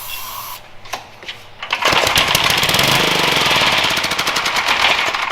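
A small salvaged vacuum engine primed with a squirt of gas and strapped down fires up after a few sputters, then runs loud and rapid with a rattling buzz close by.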